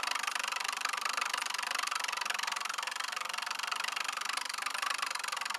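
A homemade magnet motor with worn, eroding contacts runs steadily, a continuous buzzing whir with a faint rhythmic unevenness as it slows and speeds slightly, no voices.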